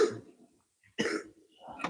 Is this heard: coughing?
yes